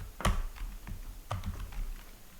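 Keys clacking on a computer keyboard while a Java program is entered, a few sparse, irregular keystrokes with a sharp louder tap early on, close and dry with no talking.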